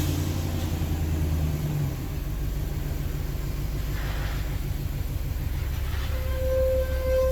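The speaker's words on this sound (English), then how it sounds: "let's get this truck out of here" A truck rumbles out of a workshop, its engine holding a deep, steady drone that stays loud and close for the whole stretch, with a brief shift in tone partway through.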